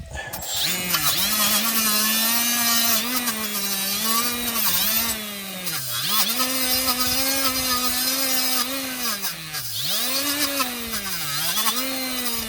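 An oversized wire wheel on a power tool cleans front brake parts of a 2007 Honda CR-V, a loud continuous whirring grind with pitch dipping repeatedly as the bristles bite under pressure.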